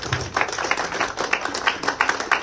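An audience at a police event, where officers returned missing phones, claps for the police team, a brief burst of rapid, fairly close hand claps with no voices over it.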